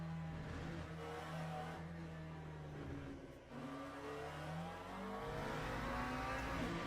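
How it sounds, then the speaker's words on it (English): A race car engine in a Le Mans Ultimate video game race drones steadily, its pitch rising and falling as it revs and shifts, fairly loud and continuous with no voices. "can you hear me okay over the car engine?"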